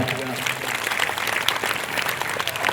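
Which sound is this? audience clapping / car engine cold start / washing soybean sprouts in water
audience clapping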